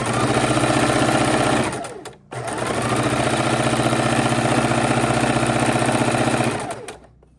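A sewing machine stitching quilt pieces runs in a fast, even whir, stops briefly, then starts again and runs steadily before winding down, all close and loud.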